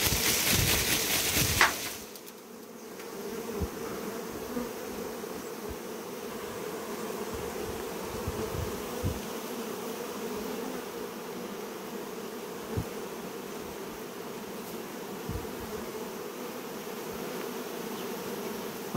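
Honeybees in an Albanian beekeeping setting buzz continuously for about twenty seconds, a steady close drone with a few brief louder passes and no talk.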